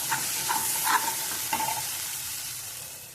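Chicken pieces being stirred in a hot pan with turmeric for a chicken curry, a few scraping stir strokes over a steady close sizzle that carries on alone.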